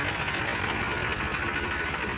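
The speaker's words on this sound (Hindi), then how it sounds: "दूसरा ट्रैक्टर आ गया" A tractor engine drones steadily and loudly as it pulls up at a home construction site, its dense low rumble running unbroken with no voices.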